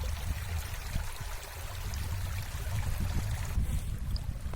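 Flowing river water in the mountains between Quba and Shamakhi, a steady broadband rush with low rumble, close and continuous with no voices.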